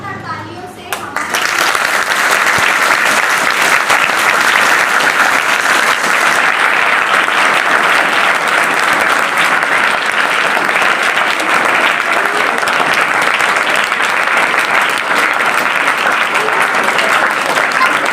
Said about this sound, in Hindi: तो आइए जोरदार तालियों से हमारे